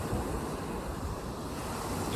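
Choppy sea waves wash onto Caister beach in Norfolk with wind buffeting the microphone, a dense continuous roar of surf filling the whole stretch.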